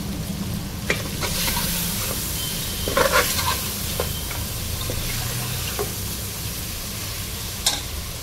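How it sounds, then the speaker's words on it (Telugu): Salt and chili powder frying with mutton in a pan, a steady close sizzle with scattered clicks and scrapes of a spoon stirring the meat. "ఈ ఉప్పు కారం కూడా కొద్దిసేపు వేయించుకుంటాం"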